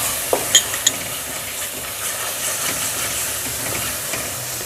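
Kofta curry masala with garam masala and salt roasts over low heat in a pan, producing a close, steady hiss and sizzle with a few sharp clicks at the start.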